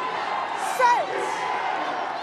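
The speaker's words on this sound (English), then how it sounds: "the Italian crowd getting very vocal" Italian crowd at a women's rugby match against Wales, a constant wash of distant cheering and shouting, with a brief louder swell of whoops near the middle.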